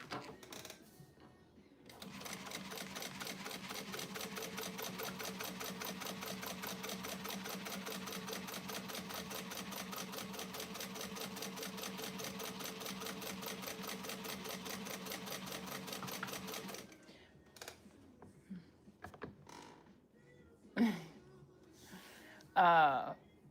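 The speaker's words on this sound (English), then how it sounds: "I've serged the edge to my fabric and then folded it over and sewn it" A sewing machine stitches elastic onto fabric, running in one long even burst for about fifteen seconds before stopping, followed by a few scattered handling clicks and bumps.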